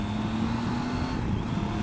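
A steady engine drones at a constant pitch with wind and road rumble, like a motorbike cruising along, no voices.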